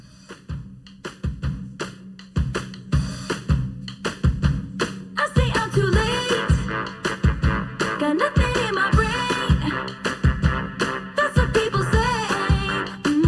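A pop song plays loud and steady with a driving beat and sung vocals, the arrangement filling out after a sparser opening.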